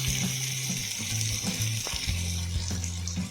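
Chopped tomato frying in a pan after onions for a homemade cluster bean sabzi, a soft steady sizzle close by with occasional clinks and stirring scrapes of a utensil, no voices.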